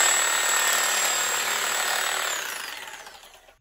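A Titan TTB533RSP reciprocating saw fitted with the wrong blade cuts wood, a loud, harsh buzzing and rattling that holds steady before winding down and dying away within a few seconds.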